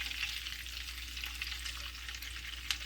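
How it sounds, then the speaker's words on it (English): Cabbage sizzles steadily in a skillet that already held fried hamburger meat, a constant bright crackle with no voices, at moderate level throughout. "right now what I'm doing is I'm frying my cabbage."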